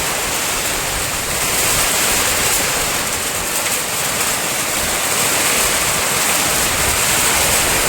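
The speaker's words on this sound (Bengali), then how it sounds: "কেমন বৃষ্টি হচ্ছে, আর হাওয়া দিচ্ছে কেমন দেখো।" Rain pours down in strong wind, a close, loud, unbroken rushing roar that swells slightly but stays steady, with no one talking.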